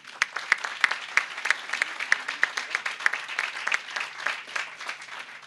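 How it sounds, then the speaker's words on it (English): An outdoor audience at a groundbreaking ceremony applauds with a steady patter of hand claps. A few louder, distinct claps stand out, and the applause carries on evenly for several seconds. "I'd like to recognize them with a round of applause."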